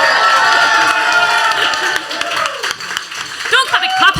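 A crowd at an album launch party claps and cheers, with loud whoops and shouted voices rising over steady clapping, growing livelier toward the end.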